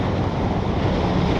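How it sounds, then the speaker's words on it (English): Strong wind blowing outdoors in the Black Hills of South Dakota, a loud, steady roaring rush buffeting the microphone without a break. "Oh, the wind is really blowing."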